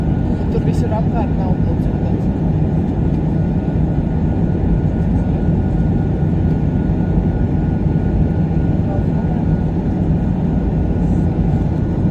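A continuous low roar of an airplane cabin in flight, steady and unbroken throughout, with a faint murmur of voices beneath it.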